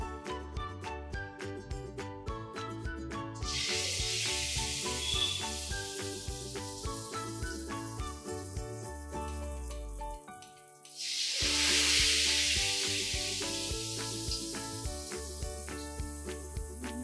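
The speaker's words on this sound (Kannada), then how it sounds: "ಅದನ್ನು ಮೈದಾ ಮತ್ತು ಕಾರ್ನ್ಫ್ಲೋರ್ ಬ್ಯಾಟರ್ನಲ್ಲಿ ಅದ್ಬಿಟ್ಟು ಫ್ರೈ ಮಾಡ್ತೀವಿ" Potato cubes coated in maida and cornflour batter deep frying in oil, a loud broad hiss that swells in two long bursts beneath continuous background music.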